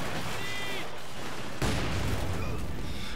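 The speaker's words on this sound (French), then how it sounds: "on balance une grenade" Grenade blast and gunfire in Company of Heroes 2 during a Stalingrad mission, a dense crackle of battle noise that jumps into a louder, broadband burst midway and keeps rumbling after.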